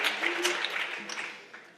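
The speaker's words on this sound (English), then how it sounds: "And I also think that Mr. Burnett, aka Bookstore Pete, deserves a big round of applause" A school morning-meeting audience gives a round of applause, a dense wash of many hands clapping that swells briefly and then tapers away.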